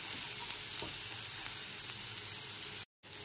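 Poha with fresh vegetables being fried and stirred in a pan over a medium flame for Bengali chirer pulao, producing a steady soft sizzle with a few light spatula taps and a brief dropout near the end.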